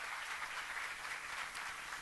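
A church congregation applauds during a sermon, a dense, even wash of clapping that stays level and fairly faint throughout the short stretch.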